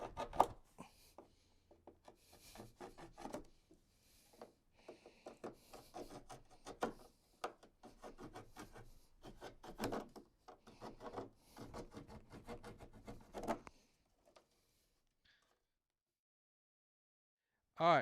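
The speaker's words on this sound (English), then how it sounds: "you're going to cut these remaining edges out of the way so you have a smooth surface" Plastic edges on a J&J Echo recirculating portable toilet base being cut and smoothed with a pocket knife or Dremel, giving close, irregular scraping and rasping bursts over about fourteen seconds before falling silent.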